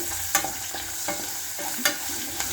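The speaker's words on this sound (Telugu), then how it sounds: "ఇవి కొంచెం తిరగమూత గింజలే బాగా వేయించి తిప్పుతూ ఉంటే" Tempering seeds fry in a pan while being stirred, a steady soft sizzle broken by a few sharp spoon scrapes and clinks, close and without speech.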